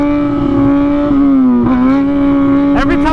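A Kawasaki ZX-6R motorcycle engine held at a loud steady drone while doing a wheelie, its pitch dipping slightly and then climbing in a sharp rev near the end, close and continuous.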